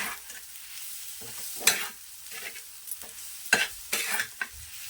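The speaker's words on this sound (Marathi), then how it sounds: "तर जे आपण खलबत्त्यामध्ये वाटून घेतलं होतं ते यामध्ये घालून घ्यायचं आणि चांगलं परतून परतून घ्यायचं" Pounded spices and dried Bombay duck stir-fried in a pan, with soft sizzling under intermittent scraping strokes of a spatula, several distinct clattering stirs close by and no talk.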